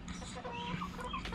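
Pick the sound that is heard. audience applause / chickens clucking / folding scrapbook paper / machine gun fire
chickens clucking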